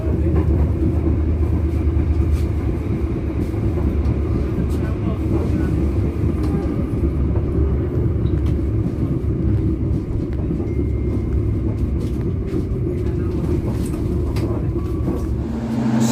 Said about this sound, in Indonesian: Saat ini perjalanan kereta api Logawa sampai di stasiun Kutoarjo